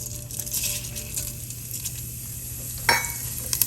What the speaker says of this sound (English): Once the oil is heated, you will add in the cumin seeds